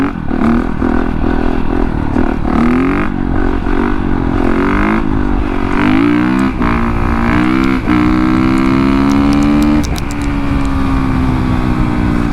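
A Honda CRF450RX set up as a supermoto roars loud and close, its single-cylinder engine revving hard and climbing through the gears in repeated rising pulls, with no voices over it.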